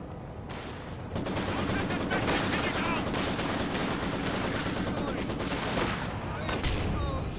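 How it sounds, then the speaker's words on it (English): Artillery barrage and machine gun fire in a multiplayer strategy game, dense continuous rattling bursts with heavy thuds under them, loud and sustained, mixed with game ambience and some speech. "Pancake is throwing his artillery barrage onto Big Mac's MG north to help Green Mario push in here"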